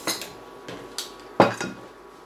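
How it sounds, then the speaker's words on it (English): Cooked carrots being scraped and tipped from a pan into a bowl, with a few distinct clinks and knocks of utensil against cookware, the loudest clatter near the end, no talking. "I'm going to transfer these carrots over to a bowl"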